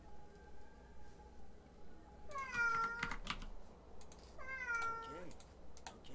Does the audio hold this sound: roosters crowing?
no